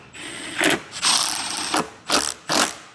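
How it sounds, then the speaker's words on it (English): A ratchet tightens the bolts that hold restored gloss-black seat frames in a DeLorean, giving several short bursts of loud, close ratcheting clicks separated by brief pauses. "we have to bolt in the sweet gloss black seat frames that have now been restored."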